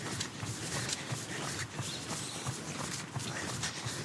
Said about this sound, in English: I can hear a lot of footsteps.